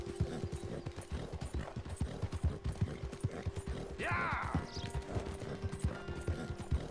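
Hooves clip-clop in a steady, quick rhythm as a horse trots in Red Dead Redemption 2, with creaking gear and a steady hum behind, and a brief horse whinny cutting in partway through.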